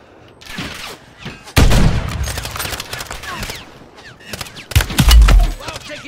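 Video game gunfire in a sniping match: a string of sharp shots and bursts, some loud and close with heavy booms, others lighter and scattered over several seconds.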